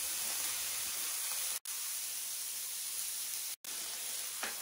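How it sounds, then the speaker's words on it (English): Filet mignon steaks sizzle in a hot pan, a steady bright hiss of frying meat close up, briefly cutting out twice; no talking. "Do you hear the sizzle?"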